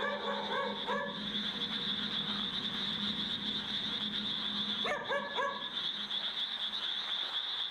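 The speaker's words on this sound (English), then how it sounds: "he decides to film as he searches for the barking dog" A dog barking in a graveyard, short bursts of two or three yelps early and again near the end, heard over a constant high-pitched insect or frog drone.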